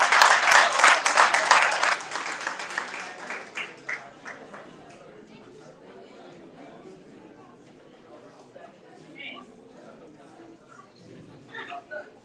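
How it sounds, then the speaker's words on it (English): Applause at a book launch for the principal stepping to the podium, strong for about two seconds, then tapering into scattered claps and quiet room murmur with faint voices. "Can we please give a round of applause?"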